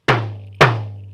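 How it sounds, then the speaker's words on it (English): Two struck hits on a small handheld lollipop drum, each a sharp loud attack with a resonant low ring that decays, spaced about half a second apart, heard alone. "I have a little drum, my lollipop drum,"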